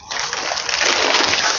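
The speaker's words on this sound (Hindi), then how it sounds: "मैंने इस शीट को यहाँ उतार दिया। इसमें पानी बहुत था।" Water splashes and sloshes loudly off a plastic sheet lifted on a rooftop terrace during monsoon rain, a close, continuous rushing spill lasting under two seconds.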